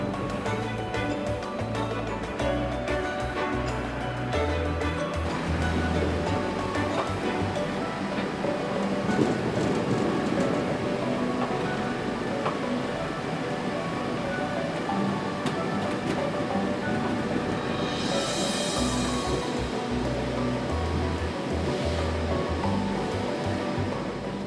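Cider apples in Herefordshire tumble from a hopper over rotating rollers, a continuous rumbling, clattering mechanical churn with irregular knocks, heard at moderate loudness throughout.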